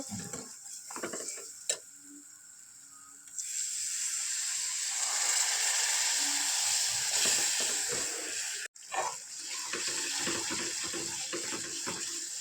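Water poured into turmeric and coriander powder while cooking, a soft hissing trickle that begins after a few light kitchen clicks, runs steadily and quietly, breaks briefly, then resumes.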